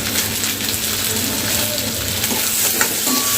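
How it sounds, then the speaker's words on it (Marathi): Chopped onion frying in hot oil as tomato goes into the pan, a loud, dense, continuous sizzle close up with faint stirring scrapes and no speech. "आपला कांदा चांगला फ्राय झालेला आहे"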